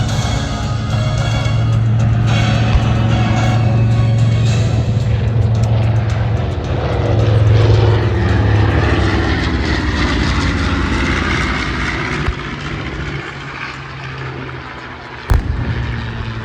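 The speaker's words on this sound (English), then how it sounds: "As the B-25 continues its racetrack pattern, supporting the Allied forces" A B-25 Mitchell propeller bomber flies a pattern over an air show battle reenactment, a loud sustained engine roar that gradually fades, with one sharp bang near the end.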